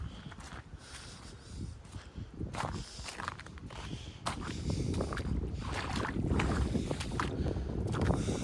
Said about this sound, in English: Very windy out today.